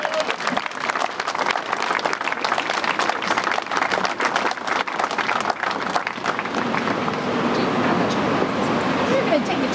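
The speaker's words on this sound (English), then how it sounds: "Let's have a round of applause for Chief Schlittler" An audience gives sustained applause for a fire chief at the dedication ceremony of the Needham Public Safety Complex, with dense clapping throughout and voices talking beneath it.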